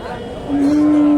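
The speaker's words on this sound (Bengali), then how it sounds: "ফ্রিজিয়ান জাতের গাবি ফ্রিজিয়ান ক্রস" Friesian cross cows at a busy village cattle market, with one cow giving a loud, sustained moo that starts partway through and holds steady to the end over the crowd's background murmur.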